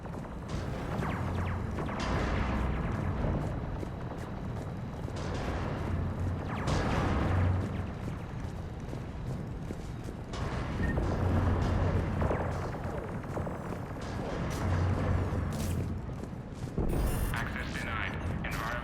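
Cannons fire repeatedly in the Mass Effect 3 battle to retake Omega, heavy booms rolling over a constant loud rumble of combat, with several stronger blasts spaced every few seconds.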